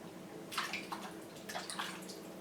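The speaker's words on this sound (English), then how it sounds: "I'm going to wash my hand here." Hands are washed under a running kitchen tap, giving a steady close splash of water with brief brighter bursts as the hands move through the stream, with no talking.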